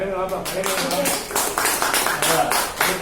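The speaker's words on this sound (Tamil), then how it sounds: "அவருக்கு ஒரு நல்ல பலத்தை கைத்தட்டு" An audience clapping for a speaker at a Tamil talk, a quick run of bright, sharp claps in an uneven rhythm, mixed with voices talking over them.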